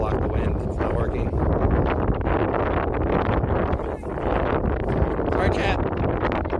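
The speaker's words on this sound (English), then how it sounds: "Trying to block the wind. It's not working." Steady, loud wind buffets the microphone outdoors on a windy day of flying, a continuous rumbling roar that covers the whole stretch, with people talking underneath.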